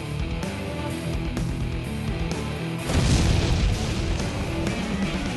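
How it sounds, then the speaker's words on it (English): A deep, loud boom erupts midway during a military training exercise, rumbling low and sustained over a steady background of mechanical noise. "After a loud explosion, Jeremy quickly realizes the mission has cha"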